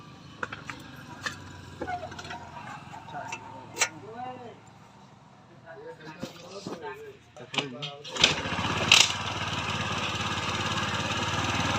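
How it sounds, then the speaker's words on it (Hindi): A TVS Jupiter scooter is kick-started after carburetor work. Quiet clicks and handling noises come first, then the engine catches on one kick and runs in a loud, steady, close idle. "अब देखें बिल्कुल एक किक में ये स्टार्ट हो गया।"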